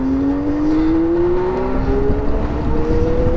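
An electric-converted vintage Honda motorcycle, a CB160 or S190, accelerates with a loud, close whine that climbs steadily in pitch, backed by continuous wind and road rumble and no talking.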